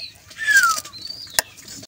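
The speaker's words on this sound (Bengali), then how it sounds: "মুখী কবুতরটা কত সুন্দরভাবে খড়কুটা নিয়ে যাচ্ছে" A pigeon carrying nesting straw flaps its wings in a short, close burst on a rooftop loft, joined by a sharp clap and faint chirps of other birds nearby, with no speech.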